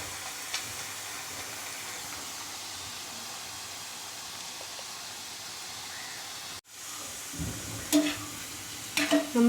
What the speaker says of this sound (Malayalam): നമ്മൾ അടുത്ത സെറ്റ് ചക്ക വറുക്കാനുള്ള ചക്കയും ഇട്ടിട്ടുണ്ട്